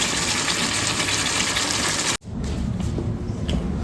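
Water pours steadily and loudly into a pot of potatoes for aloo dum, then cuts off abruptly and gives way to quieter sloshing and faint kitchen sounds.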